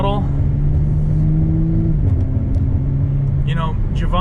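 An Audi B9 S4 fitted with 034 Motorsport upgrades accelerates at half throttle in sport mode, a steady, loud engine drone rising slightly in pitch throughout, with someone talking over it.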